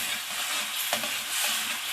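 Sweet khoya filling being dry-roasted in a pan: a close, soft, steady hiss of frying with scraping stirring strokes throughout the short moment.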